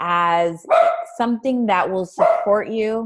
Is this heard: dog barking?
yes